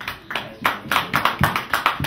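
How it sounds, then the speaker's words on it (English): Rhythmic clapping at a holiday show: evenly spaced claps repeat at a quick steady pace, close and moderately loud, sounding like a small group or a single clapper rather than a full crowd. "Big round of applause."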